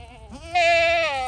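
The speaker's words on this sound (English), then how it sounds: "That is Beauty's goat." A goat bleats close by, one long, loud, wavering call after a brief softer note, outdoors near a frozen pond.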